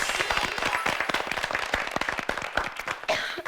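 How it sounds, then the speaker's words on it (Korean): A studio audience at a Korean high-school debate competition broadcast breaks into dense, close applause, many hands clapping rapidly and steadily, with no voices over it. "대학생 방청객 심사단 여러분을 박수로 환영하겠습니다"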